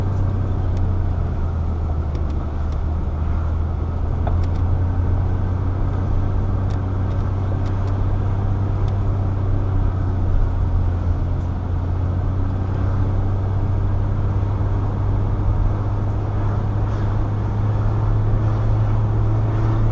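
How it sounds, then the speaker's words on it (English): A car descends a winding mountain motor nature trail in low gear, its engine holding a steady deep drone with constant road rumble and faint rattles for the whole stretch, no talk over it. "I've got it in low gear, but if I ride my brakes the whole time, they'll get too hot."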